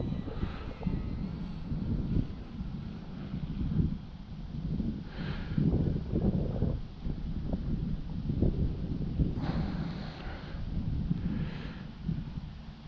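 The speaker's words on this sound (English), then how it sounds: "Ooh, that wind's really blowing through right now." Wind gusts across a model airplane flying field, a continuous low rumbling buffet on the microphone that swells and eases in waves, with a small aircraft engine droning faintly underneath.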